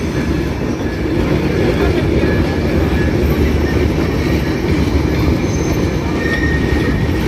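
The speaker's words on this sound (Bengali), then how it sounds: "ট্রেনটা যাত্রী নিয়ে যাচ্ছে" A Bangladesh Railway intercity passenger train rolls past close by, a loud, steady rumble of wheels on rails with faint squealing throughout and no pauses.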